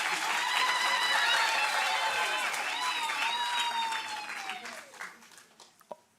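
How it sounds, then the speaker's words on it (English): Audience at a ministerial announcement of national exam results applauding students, a full roar of clapping and cheering with whistles, loud at first then thinning out and fading to a few last claps. "Give yourself a round of applause."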